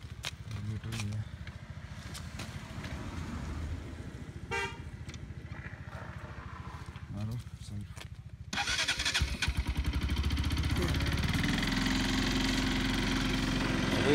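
A purple Bajaj Pulsar RS 200 with fuel injection cranks and fires up in heavy snow and winter cold, then settles into a rising, steady idle, with people talking over it near the bike.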